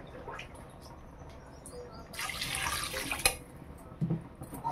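Water splashes into a pot of chicken curry in a short pour lasting about a second, with quiet room noise before and after.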